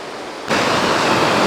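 Water rushes at the top of a waterfall in Gros Morne National Park, Newfoundland, a dense, steady roar that jumps suddenly louder partway through and then holds constant, with no voices.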